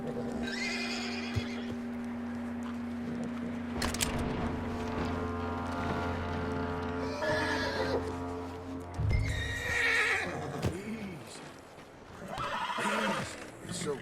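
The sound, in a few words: horse neighing in video game Red Dead Redemption 2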